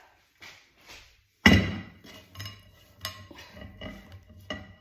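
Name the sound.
mixing achar ingredients in a tray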